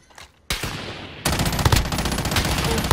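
Enemy gunfire in a video game: a single sharp shot, and then a sustained loud rattle of rapid automatic fire with repeated punchy impacts, close and steady, with no talking.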